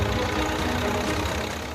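A tractor engine runs over a standing, ready-to-harvest wheat field, a steady, dense low rumble with no break, loud and close throughout with no voices.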